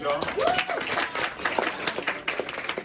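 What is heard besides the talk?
audience applause at community meeting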